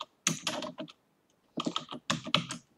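Typing a terminal command on a computer keyboard: two quick close bursts of crisp key clicks separated by a brief pause, heard alone with no talk.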